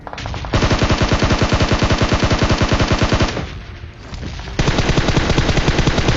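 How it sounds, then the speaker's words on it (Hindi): Sustained automatic gunfire from a firefight in the mobile game PUBG Mobile, rapid loud bursts filling the clip with a short quieter gap near the middle before resuming at full intensity. "मेरे राइट साइड से कुछ फायरिंग की आवाज़ आती है"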